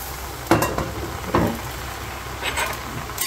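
A steady sizzle of vegetables cooking in a hot pan for lumpia filling, broken by two louder scraping stirs early on and some light clatter near the end.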